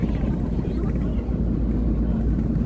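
A motorbike engine arriving for a pickup on Untung Jawa island, a steady, loud droning rumble throughout with a voice partly mixed in beneath it.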